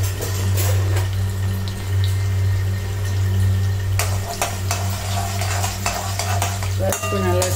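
Mustard seeds and urad dal fry in hot oil for a mango-ginger and green chili dish, making a loud, steady sizzle with stirring scrapes and a few sharp pops toward the end.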